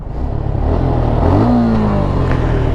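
A modified Suzuki Gixxer SF 250 motorcycle engine revs up close and loud, its pitch climbing and then easing in one sustained pull, with a steady mechanical clatter and no talking.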